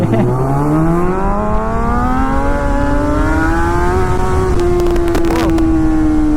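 A Suzuki GSX-R1000 sportbike accelerates hard up close, its engine note climbing smoothly in a loud, sustained rising whine before levelling off at high revs.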